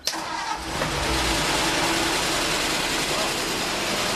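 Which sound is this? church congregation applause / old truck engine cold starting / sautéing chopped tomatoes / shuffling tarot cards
old truck engine cold starting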